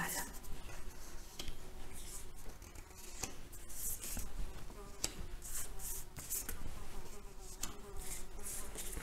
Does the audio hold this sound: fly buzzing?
yes